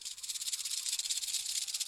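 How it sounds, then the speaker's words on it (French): A rattlesnake's tail rattles in a steady, dry, high buzzing hiss lasting about two seconds, close and fairly quiet, with no voices. "2 queues de serpent à sonnette,"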